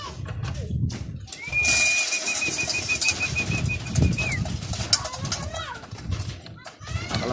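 Young racing pigeons at a loft trap give brief wing flutters and soft calls, with a sustained whistle-like tone in the middle, alongside low voices and handling noises nearby.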